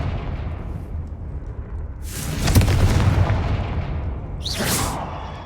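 A Confringo explosive spell from the Hogwarts Legacy video game goes off with a loud booming blast, a roaring burst of fiery noise that swells and trails off, followed by a second bright crackling burst near the end.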